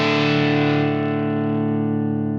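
An electric guitar runs through a ToneX amp model with the gain cranked up. A single thick, distorted chord rings out alone and slowly fades across its sustain.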